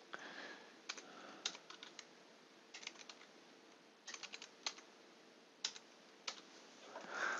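Keys tapped on a computer keyboard while entering a date into an Excel spreadsheet, in short irregular bursts of close, light clicks with pauses between them and no talking.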